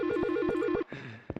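A phone rings in the video game Silent Hill Shattered Memories: a looping electronic trill of repeated warbling tones for most of the clip, cut off abruptly, followed by a few softer clicks.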